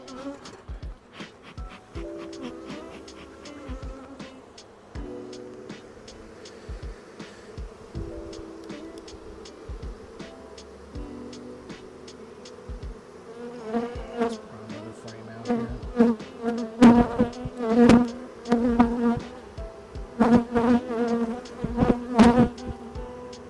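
Honey bees buzzing at a hive during the sourwood nectar flow in western North Carolina, a steady drone with individual bees zipping close past, growing louder and busier toward the end.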